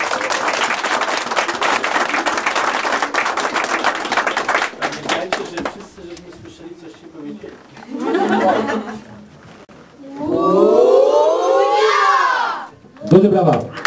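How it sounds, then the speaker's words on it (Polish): A crowd claps loudly and steadily for several seconds at a youth football club oath ceremony, then the applause fades into shouts and cheering voices. "Duże brawa!"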